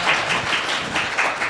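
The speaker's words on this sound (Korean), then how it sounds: "박수 부탁드리겠습니다." Brief applause from a seminar audience welcoming panelists at a construction-industry policy discussion, several quick bursts of clapping at moderate volume with no talk over it.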